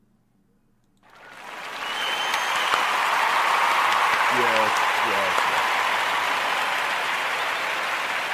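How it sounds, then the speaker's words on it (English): Audience at a live talk show event bursting into a sustained round of applause that swells within a second and holds steady and loud, with a voice briefly speaking over the clapping. "let's give them a round of applause"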